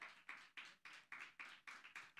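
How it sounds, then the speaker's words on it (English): Audience applause at a church service, coming in regular rhythmic bursts of about eight claps in unison, loud and close with no talking over it. "Can we clap for that?"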